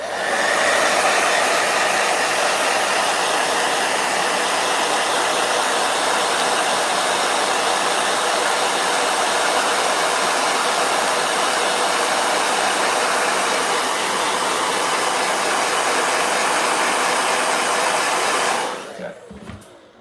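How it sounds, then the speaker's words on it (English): A blow dryer runs loud and close as a steady unbroken whir for about nineteen seconds, then cuts off abruptly near the end. "Blow dryer."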